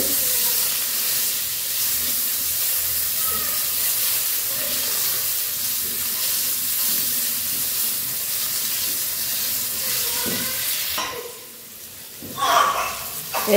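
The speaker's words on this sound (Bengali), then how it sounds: "এখন এই যে আলুগুলাও দিছি, আলুগুলাও ভাইজা নামিয়ে নিব।" Potatoes fry in hot oil after a batch of cauliflower in a simple village kitchen, giving a steady close sizzling hiss that dips briefly near the end before crackling again.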